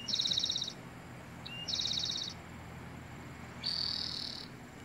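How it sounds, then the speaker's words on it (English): Spotted towhee song played back from a printed bird song card: three short buzzy trilled phrases, each under a second, separated by pauses over a faint low background hum. "Spotted towhee sounds like Beethoven's Fifth."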